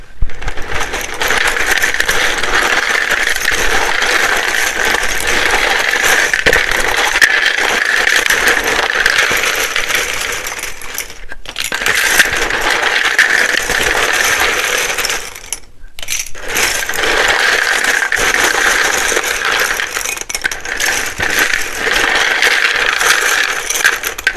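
A deck of tarot cards is shuffled loudly and close up, a dense rapid riffling and rattling that runs for over twenty seconds with two brief pauses, and no one speaks.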